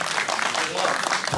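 A talk-show audience gives a short burst of applause, brief and fairly close, with voices mixed in.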